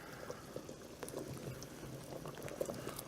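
Hard-cut vegetables dropped into a pot of boiling water in a kitchen give a quiet, continuous bubbling and gurgling with small scattered pops, heard close and alone.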